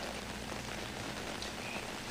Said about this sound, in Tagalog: ngayong gabi medyo lumakas ang pag-ulan